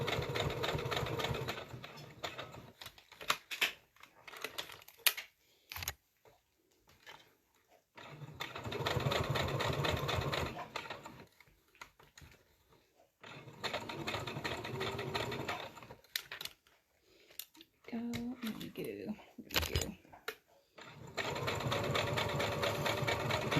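A sewing machine runs in several bursts of stitching, reinforcing a seam that had started to open on a handmade Batty plush, with pauses and small handling clicks between runs.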